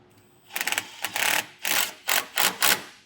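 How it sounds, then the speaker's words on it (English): A 7/16 socket wrench tightening a nylock nut while installing a TorkLift StableLoad suspension: a quick ratcheting flurry, then several short clicking bursts in a steady rhythm, close and moderately loud. "Now I'm going to use a 7/16 socket and wrench to get these tightened down."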